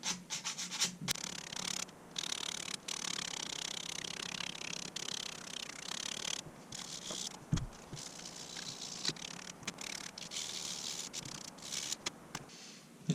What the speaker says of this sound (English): taking some sandpaper, in this case 220, and we're just going to sand down these edges here